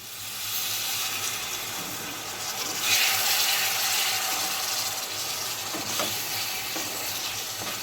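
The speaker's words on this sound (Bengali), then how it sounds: "তো একটু জল দিয়ে দিচ্ছি।" Water poured into a hot pan for Bengali rohu fish curry with potatoes, raising a loud, steady hiss and sizzle that lasts throughout with a slight surge midway.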